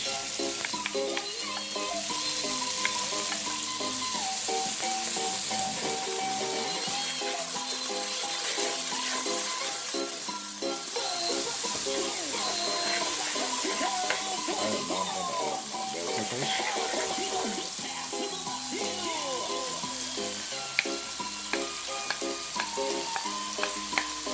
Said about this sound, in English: now I'm going to add all my bell peppers and onions. I'll do the onion scallions first.